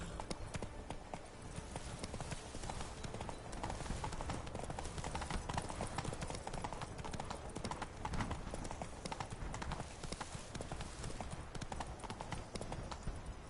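Roach the horse gallops in The Witcher 3, steady quick hoofbeats at a close, even rhythm that keeps going from start to finish at moderate loudness.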